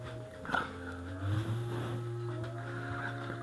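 A dog gives a brief whimper or yip outdoors beside water while fishing, heard over a steady engine-like hum, with no speech.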